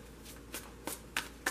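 Tarot cards from pre-shuffled decks being dealt and laid down on a table, four quiet, crisp slaps spaced under a second apart, close and alone.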